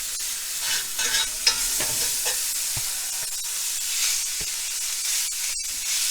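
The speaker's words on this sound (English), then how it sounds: "So I'm going to add really quick the garlic and ginger, and then add the beef really quick" Garlic, ginger and beef hit hot oil for a stir fry, giving a loud, steady sizzle with hissing spatter and occasional stirring scrapes and clicks against the pan.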